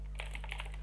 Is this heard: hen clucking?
no